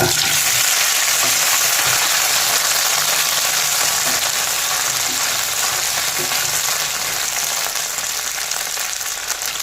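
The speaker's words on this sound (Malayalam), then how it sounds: "വെളിച്ചെണ്ണ ചൂടായില്ലേ അപ്പൊ നമുക്ക് വെണ്ടക്കായ" Okra fried in hot coconut oil for a Kerala-style okra curry gives a loud, steady, dense sizzle with faint stirring, close up and with no voices.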